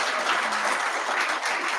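An audience in Meru, Kenya claps at a cultural arts event, a dense, steady burst of applause heard up close with no speech.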